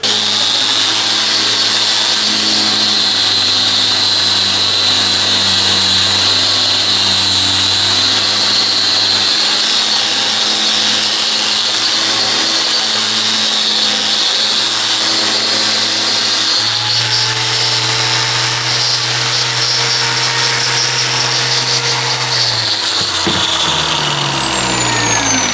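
Power saw mitering walnut pieces for a library build, a loud steady motor whine with harmonic drone running throughout, shifting pitch near the middle and spinning down at the end, no voices.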